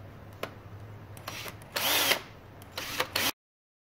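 A power drill with a drill guide fires in short bursts, then makes a longer grinding run into metal while drilling out a broken bolt, several spurts of whirring close by, ending abruptly.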